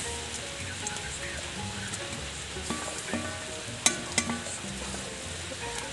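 Spices cooking in second-press coconut milk for a bamboo shoot and crab dish, with a steady sizzle and bubbling broken by a few sharp clinks and scrapes of stirring near the end; no talking.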